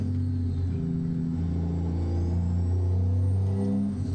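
A Peterbilt 362 cabover truck in American Truck Simulator gives off a deep, throaty old-school engine drone, a steady loud rumble that holds evenly with slight swells in pitch.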